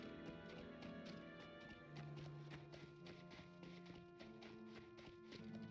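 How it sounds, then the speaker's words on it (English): Horse hooves clip-clop steadily in the Lord of the Rings Online video game, a soft repeating walking rhythm heard under game music and ambient sound. "You've been a good horse, Lonesome Glory."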